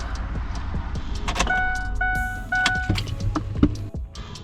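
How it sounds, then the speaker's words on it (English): A 2009-2014 Ford F-150 truck engine idles steadily up close, with a few electronic chime tones and short clunks over the low running rumble. "So we fired the truck up. We're going to let it run for a second here"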